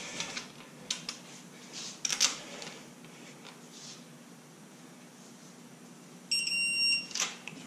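A torque angle wrench gives short electronic beeps, with a longer steady tone near the end, while LS head bolts are tightened on a 5.3 engine; the sounds are faint and close against quiet room noise, with no speech.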